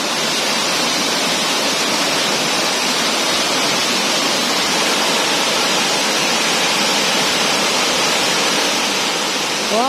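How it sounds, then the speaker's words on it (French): A steady, full rush of falling water from a small waterfall in Doi Inthanon National Park, Chiang Mai, Thailand, pours continuously, close and loud, with no breaks or changes in intensity. "Une petite cascade complètement privée, privatisée pour nous."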